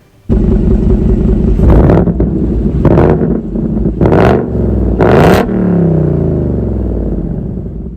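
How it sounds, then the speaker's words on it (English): A 2023 Ford Mustang Mach 1 with an active-valve quad exhaust starts up loudly and revs hard several times in close succession, each sharp rise falling back to a deep, rumbling idle. "I will certainly throw a exhaust clip in here."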